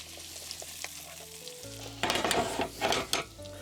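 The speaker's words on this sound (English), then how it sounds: "and then we want to add our gnocchi into the butter." Gnocchi sizzle and fry in brown butter with thyme and hazelnuts, a steady close crackle that grows busier as they are stirred in the pan, with no talking.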